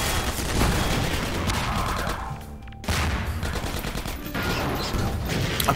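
Enemy gunfire in Half-Life 2 Episode 1: dense, loud, continuous volleys of rapid shots with a brief break in the middle before the fusillade resumes.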